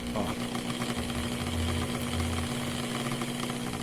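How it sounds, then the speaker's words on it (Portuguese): A small brushed electric motor runs slowly on a dimmer-controlled supply, giving a low, steady whirring hum with a faint tonal whine, close and continuous throughout with slight shifts in speed. "a gente está conseguindo controlar a rotação do motor"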